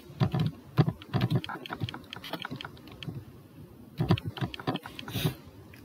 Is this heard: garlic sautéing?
no